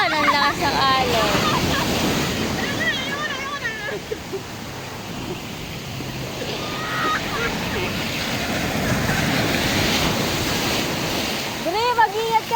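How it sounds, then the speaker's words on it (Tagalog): Heavy surf crashes in a constant loud roar close by, the waves swelling and breaking steadily with wind noise, while voices call out now and then over the water. "Ang lakas po ng alon."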